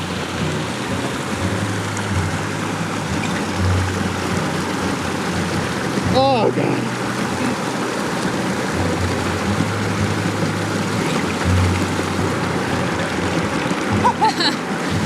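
Creek water near Matterhorn Peak flows with a steady broadband rush throughout, and a person briefly speaks over it near the middle.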